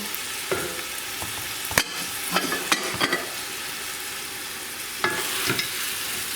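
Spices, salt and Ajinomoto being stirred into chicken browning in a pan for chicken and vegetable soup, with a steady sizzle and scattered scraping clinks of the spoon against the pan.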